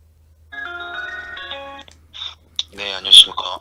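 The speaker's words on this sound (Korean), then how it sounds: "박경근 선수가 지금 전화 통화하겠습니다" A telephone rings for an incoming call during a live broadcast, a steady electronic ringtone tone repeating for about a second and a half before a voice answers and speaks.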